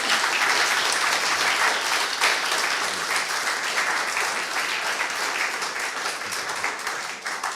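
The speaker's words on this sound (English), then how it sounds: "Can I have a large round of applause for our speaker today?" Museum audience applauding a lecture speaker on imaging black hole shadows with the Event Horizon Telescope, a full, continuous round of clapping that stays strong and fades slightly at the end.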